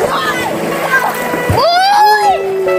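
Children splash and play in river water while excited voices chatter and call out throughout, with a brief splashy burst near the middle among overlapping kids' talk.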